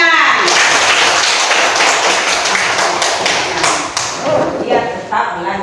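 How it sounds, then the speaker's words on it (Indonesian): Children clapping their hands together in a burst of quick, dense claps, fairly loud and close, thinning out toward the end. "Bagus, tepuk tangan."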